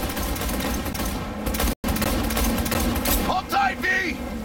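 Rapid gunfire bursts ring out during a car chase in Cyberpunk 2077, loud and dense over a roaring engine and chaotic game mix, with a brief dropout midway and voices shouting in the scene.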